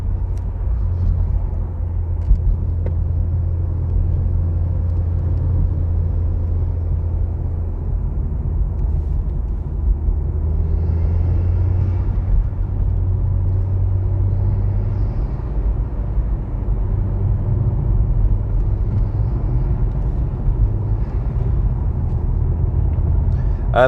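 A Mk1 SEAT Leon Cupra R engine drones steadily while driving, a loud, constant low rumble from inside the cabin with little change in pitch throughout.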